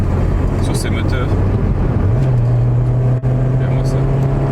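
A Citroen BX 1.9i engine climbs in revs while driving. Its steady drone steps up in pitch about halfway through and then holds, with people talking over it inside the car.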